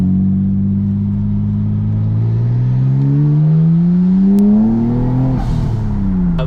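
Supercharged Lamborghini Huracan accelerates onto a freeway, its engine note climbing steadily and loudly over several seconds before a gear change drops the pitch, with supercharger whine layered over the rising drone.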